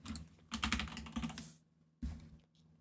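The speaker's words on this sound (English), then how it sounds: "by pressing the star button on your keyboard" Keys pressed on a computer keyboard in quick clattering bursts, a dense run of clicks followed by a pause and then a shorter flurry, close and fairly loud with no voices.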